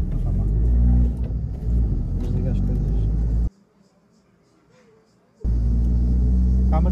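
An Abarth 595 Pista with 220 hp gives a loud, close exhaust rumble. The sound cuts to near silence for about two seconds, then the heavy engine drone returns.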